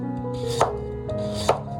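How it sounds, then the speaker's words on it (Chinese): A knife cuts a peeled carrot into thin slices on a cutting board, with two crisp chopping knocks heard up close against a quiet background. "首先准备一根胡萝卜，先刮去外皮，再切成薄片。"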